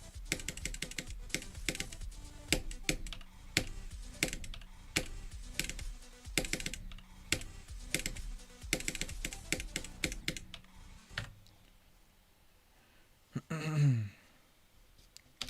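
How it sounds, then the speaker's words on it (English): Rapid typing on a computer keyboard during a game, a dense run of sharp clicking keystrokes that stops abruptly, followed by quiet and a brief sigh. "Keyboard..."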